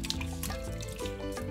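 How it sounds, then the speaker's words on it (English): Running water splashes and drips over sliced onions being rinsed for a Kenyan kachumbari salad, a steady close trickle with light irregular patters throughout. "So I'll go ahead and rinse this real quick."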